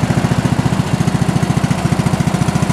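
A 15-horsepower lawn tractor engine runs close by on a cold start, with a steady, rapid, throbbing chug that holds even and loud throughout, and no voices.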